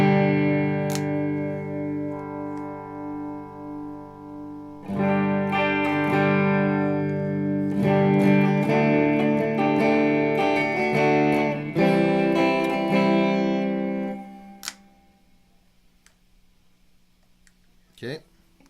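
A Stratocaster electric guitar with its bridge pickup blended in rings out in strummed chords and sustained notes, loud and close, with pauses between phrases before the final chord fades and a single pluck sounds near the end.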